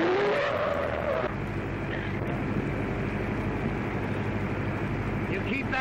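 A 1932-era car speeding along a road, a steady loud engine roar with rushing tire and wind noise filling the whole stretch, close and continuous.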